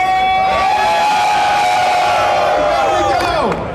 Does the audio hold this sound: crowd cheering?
yes